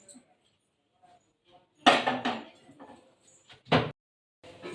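A heavy cooking pot is set down and handled in a village kitchen, giving a few loud metallic clanks and knocks in short bursts against an otherwise quiet room.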